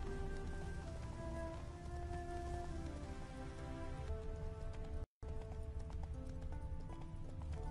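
Roach the horse gallops in The Witcher 3 with a steady, close clip-clop of hooves, mixed with a patter like rain and a soft music bed, continuous apart from a brief cut of silence.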